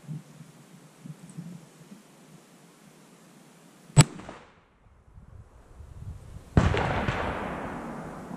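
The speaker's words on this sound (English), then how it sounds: "First shots will be out of a 308 at reduced velocities, simulating longer range of shots." A .308 rifle firing a reduced-velocity bullet into a ballistic gel block: one sharp, loud gunshot crack stands out from quiet background, followed a few seconds later by a rustling, broadband noise.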